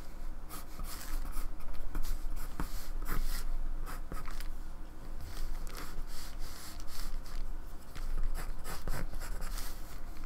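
Graphite pencil strokes scratch and rub across cold press watercolor paper in quick repeated passes, a close, steady dry rasping with short pauses between strokes and no voices.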